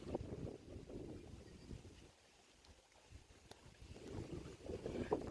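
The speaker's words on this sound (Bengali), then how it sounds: "এদিকে বাতাসের কারণে নৌকা ঘুরতেছে প্রচুর বাতাস প্রচুর বাতাস" Strong wind buffets a fishing boat out on open water during net casting, producing low rumbling gusts that ease into a quiet lull midway before surging back.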